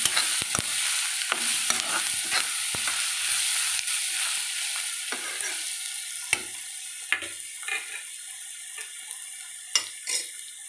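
Onion with ginger garlic paste frying in a pan, giving a steady bright sizzle with scattered clicks and scrapes of a stirring spoon that thin out toward the end.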